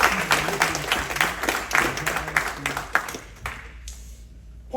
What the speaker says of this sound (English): Come on, clap your hands right there.